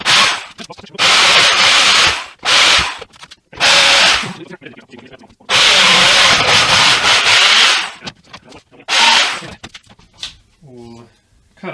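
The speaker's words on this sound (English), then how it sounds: "instead of trying to cut it, I might just scrape it off" Hand tools scrape and cut wood while a guitar template is shaped, producing loud, rough rasping strokes in long bursts that stop and start, with short quiet gaps between them and no talking.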